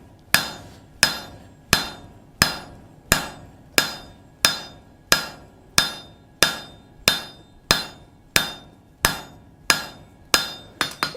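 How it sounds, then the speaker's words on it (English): Steady hammer blows strike metal held on the horn of an anvil while bending scrollwork, about seventeen sharp ringing hits at an even pace of roughly one every two-thirds of a second, close and loud with no talking. "And you're just going to hammer"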